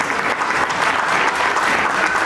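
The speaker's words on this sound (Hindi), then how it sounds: "सन्नी जी ताली बजाएंगे।" Sustained, even applause from a crowd at a Vishwakarma Samaj annual conference in Gumla, many hands clapping loudly and continuously with no pause.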